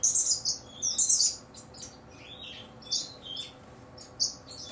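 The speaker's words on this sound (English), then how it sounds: "all the birds I have are now living in the aviary" Several pet birds chirp and tweet inside an aviary, bright overlapping calls in quick bursts, loudest at the start and again in scattered spurts, over a low steady background hum.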